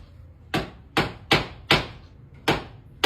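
Five heavy hammer blows strike a cellphone on a chopping board, sharp and close, spaced irregularly about half a second apart, with quiet gaps between them.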